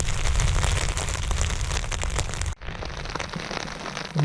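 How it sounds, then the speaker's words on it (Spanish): Rain and storm beating on a tent at night in the mountains, a steady close patter with a brief dropout partway through before the downpour resumes. "Vaya noche de lluvia, de tormenta,"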